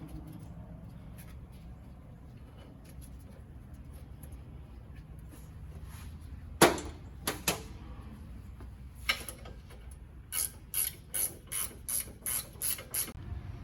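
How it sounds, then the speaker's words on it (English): Factory 30mm bolts being tightened during a Land Rover Discovery lift kit install, heard as a few sharp isolated clicks and then a quick, even run of close ratcheting clicks over quiet background. "once you tighten those bolts"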